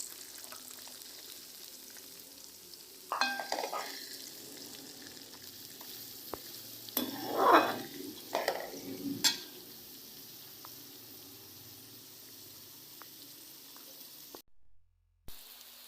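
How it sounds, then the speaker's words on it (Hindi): Onions sizzle and fry in hot oil for achaari bhindi, with a few louder bursts of stirring and scraping in the middle; the sizzle is moderate and alone, then fades to quiet near the end. "इसी तेल में अब हम शामिल करेंगे प्याज"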